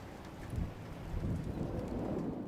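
Heavy rain pours steadily with deep rolling thunder as a rain-wrapped tornado storm moves through the south side of Athens, a continuous, loud wash of noise with no voices.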